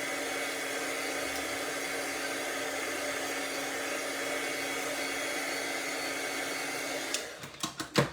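A hair dryer or heat tool blows steadily to dry wet card stock after embossing and blending-brush work, a loud constant whoosh that cuts off near the end with a few clicks and thumps.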